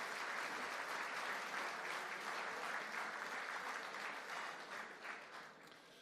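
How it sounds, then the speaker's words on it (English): Sustained applause from banquet guests at a season awards dinner, a thick wash of clapping heard from a distance that holds steady and then tapers off near the end. "please join me in a round of applause for the MAC staff"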